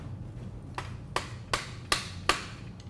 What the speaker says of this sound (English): Grab a screwdriver and hammer and lock your secondary rate nuts in place.